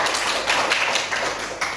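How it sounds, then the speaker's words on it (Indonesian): Students in a physics microteaching class clap for two classmates, a short burst of close, scattered hand claps with no voices. "Tepuk tangan dulu untuk Bella dan Sophia"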